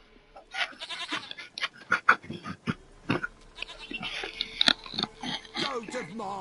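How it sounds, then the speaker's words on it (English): A goat in The Witcher 3 bleats in a string of short, wavering cries amid game sound effects and background music, moderately loud and repeated over several seconds. "Mine, dearest, sweetest goat."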